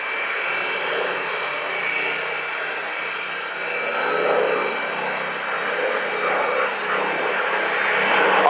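Two Avro Lancaster bombers, one pair of wings running on four Rolls-Royce Merlins and the other on four Packard-built Merlins, pass over the Dunsfold Wings & Wheels airshow with a steady, loud piston-engine drone that swells gently as they approach.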